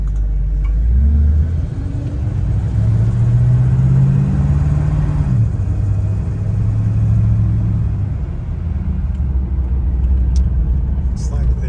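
A 1958 Cadillac Eldorado Brougham on a test drive: steady, loud low engine rumble and road noise from inside the car, with a rising and falling tone as it changes speed, while someone talks over it.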